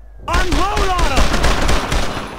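Gunfire in Brothers in Arms: Road to Hill 30 starts abruptly and continues as loud, sustained rapid shots over a wash of battlefield noise, with a few tonal cries mixed in.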